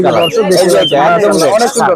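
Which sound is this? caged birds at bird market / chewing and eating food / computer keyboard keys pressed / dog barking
caged birds at bird market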